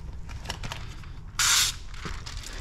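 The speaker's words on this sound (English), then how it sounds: "So what I do is when I'm spraying this down, I make sure not to get too much water up here" A spray bottle mists water onto a window during tinting work on a 2024 Toyota Camry. It is one loud, hissing burst of about a third of a second in the middle, over quiet room noise.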